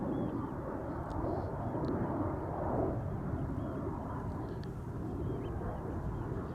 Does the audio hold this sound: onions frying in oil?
no